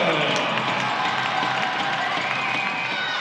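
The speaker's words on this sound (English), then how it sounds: "Listen to the crowd applause for Noah Altman." Fans at a college men's ice hockey game, St. Lawrence at Quinnipiac in Hampden, Connecticut, roar and applaud for goalie Noah Altman in a loud, continuous arena wash, with a commentator talking over it.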